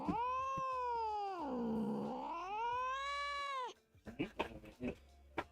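A cat sound effect: one long, drawn-out, wavering meow, loud and close, followed by a few short bursts of voices.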